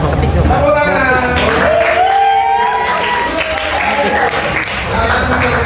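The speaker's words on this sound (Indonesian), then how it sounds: "Tepuk tangan." A classroom of students claps hands together in a sustained, loud round of applause lasting several seconds, with a voice speaking over the clapping.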